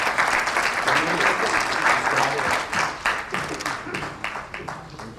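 Sustained audience applause at an all-India achievers award conference, a dense, even wash of many hands clapping that carries on throughout and fades slightly toward the end, with some talk beneath it.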